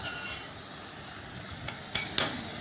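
Burger meat sizzles faintly on a hot surface as cheese melts over it, with a soft steady hiss and a couple of small crackling pops near the end.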